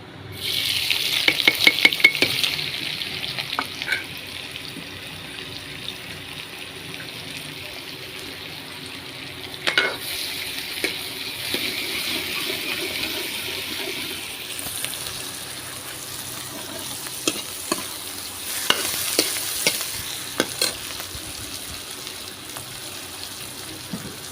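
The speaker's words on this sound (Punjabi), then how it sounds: "ਕੜਾਈ ਦੇ ਵਿੱਚ ਤੇਲ ਹੈ ਤੇ ਹੁਣ ਆਪਾਂ ਸਬਜ਼ੀ ਸ਼ੁਰੂ ਕਰਾਂਗੇ ਬਣਾਉਣੀ ਪਹਿਲਾਂ ਆਪਾਂ ਵਿੱਚ ਪਿਆਜ਼ ਪਾ ਦਾਂਗੇ" Onions frying in hot oil in a kadai on a wood-fired chulha while making potato and capsicum sabzi, a continuous hissing sizzle with a loud burst at the start and scattered scraping stirs and clinks.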